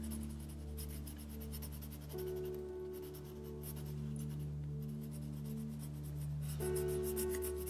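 Colored pencils scratching and rubbing as a leaf and vine are shaded on a mixed media journal page, continuous close strokes over a steady background hum.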